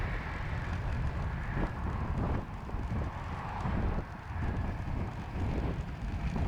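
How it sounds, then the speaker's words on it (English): Low, rumbling wind buffets the camera microphone in uneven gusts while cycling, a constant muffled roar with no voices. "if you can hear it on the camera, there's a lot of wind."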